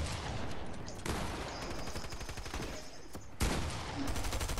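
Rapid gunfire in a video game comes as dense, continuous bursts of loud, close shots, broken by a couple of abrupt cuts.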